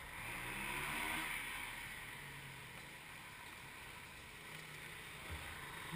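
A small boat motor runs steadily outdoors, a faint, continuous drone with a slight swell near the start and a bright hiss of water and wind over it.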